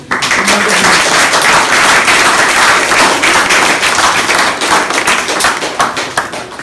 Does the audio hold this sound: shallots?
no